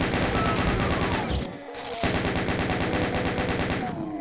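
Relentless machine-gun fire in the classic shooter Doom, on the Phobos Lab level, loud and rapid with a brief lull before the shooting resumes at full intensity.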